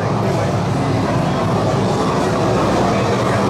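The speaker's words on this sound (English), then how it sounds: "Let's get on the train to Islands of Adventure." Train to Islands of Adventure at Universal Orlando, a loud continuous rumble and rattle of rail cars heard close from inside or beside the train, with voices partly under the noise.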